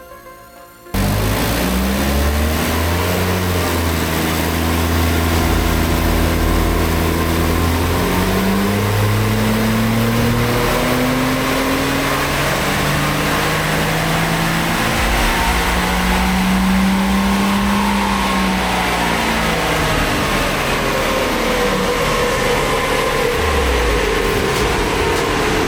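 A Toyota 80 Series Land Cruiser's naturally aspirated 1HZ diesel engine revs on a dyno, climbing steadily in a long, loud, continuous power run, droning close and alone without speech.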